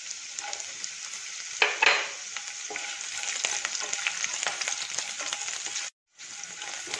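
Garlic and green chili sizzle in hot oil, a steady close frying hiss with a brief louder crackle and occasional spoon scrapes as they are stirred, cutting out for a moment near the end.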